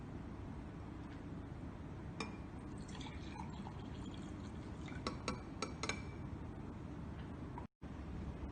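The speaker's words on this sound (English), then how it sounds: "First step is adding water into the glass cup." Water is poured into a glass cup while making a mini lava lamp, giving faint dripping and trickling splashes with a few small clinks over a steady background hiss.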